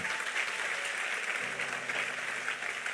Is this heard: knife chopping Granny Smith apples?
no